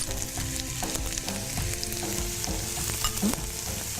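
Finely chopped onion fries in a pan for a spicy sesame green chicken dish, with a continuous dense sizzle and occasional light stirring scrapes throughout.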